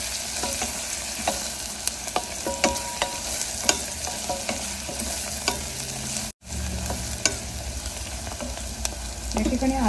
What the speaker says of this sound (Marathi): यात आपण आता अद्रक लसूण घालूया